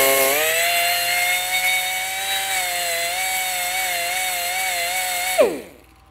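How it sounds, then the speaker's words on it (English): A bench grinder shapes a thin-wall tubing wrench, its steady, loud, high whine holding for about five seconds before the wheel lifts off and the pitch sweeps down as the motor winds down. "I marked it where I wanted to grind it"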